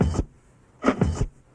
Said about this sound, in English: there's a percussive drum beat sound